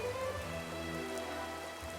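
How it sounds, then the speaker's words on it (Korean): Rain falling on a sunlit mountain pass, a steady even patter of raindrops over a continuous hiss, with a faint tonal background hum and no talk. "정말 할머니, 빗방울이 떨어져요"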